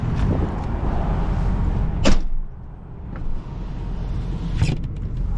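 Someone gets into a 2007 Lincoln Town Car, with a low steady hum, a sharp door thud or clunk near the start, a brief creaking shift, and another bump near the end, all close by.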